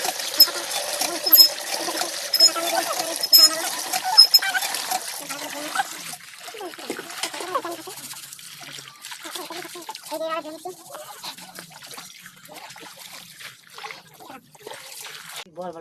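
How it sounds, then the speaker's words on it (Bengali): Water is poured and splashed over sal leaves as they are rinsed, with trickling and splattering that is busiest at the start and then comes in lighter, scattered splashes. "শাল পাতা আমরা একটু জল দিয়ে ধুয়ে নেবো।"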